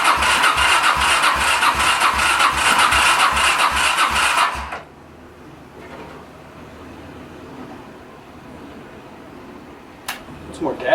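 A Honda VT700 motorcycle engine cranks on choke, trying to start: a loud rapid rhythmic chugging for several seconds that suddenly stops, leaving quiet with a few faint clicks and bumps.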